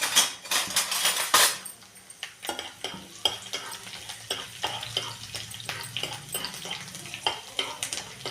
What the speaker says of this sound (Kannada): ಇಷ್ಟನ್ನು ಹಾಕಿ ಚೆನ್ನಾಗಿ ಫ್ರೈ ಮಾಡ್ಕೋಬೇಕು.